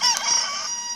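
A rooster lets out a single short, loud crow close by, a bright strained call that fades within a second.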